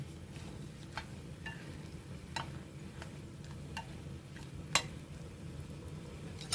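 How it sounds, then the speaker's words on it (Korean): Spinach is blanched in a pot of boiling water, heard as a low, steady bubbling rumble with a scattering of faint clicks and light utensil taps near the pot. "그 다음에 시금치 데칩니다. 뿌리부터 넣어야 되겠죠."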